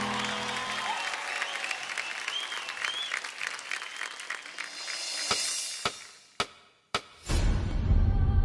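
A TV dance show audience gives loud, sustained applause and cheering for the dancers, a dense continuous clatter that breaks into a few sharp hits and brief drops near the end.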